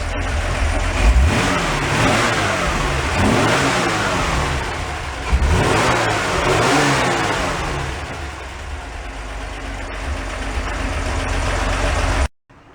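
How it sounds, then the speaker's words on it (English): A Ford E100 pickup's engine revs up loudly twice, roaring and easing back to a rough idle, close and continuous before cutting off abruptly. "Give her a couple of revs."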